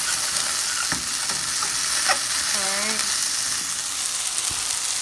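Garlic sizzles and fries in a hot pan with a steady, dense crackle, a few metallic stirring clinks and a brief squeak partway through, close and continuous throughout.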